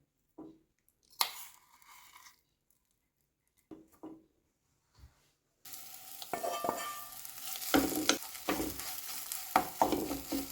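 A dry-ground masala paste for bitter gourd curry is scraped and stirred in a pan after a few quiet clinks, then bursts into loud, steady frying sizzle with intermittent spatula scrapes.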